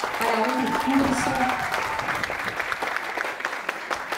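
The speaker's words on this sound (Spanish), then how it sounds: "aplauso, por favor" An audience at a foundation's plaque unveiling ceremony applauds to welcome a speaker, a sustained patter of many hands clapping that starts under a voice and then carries on alone, slowly thinning out.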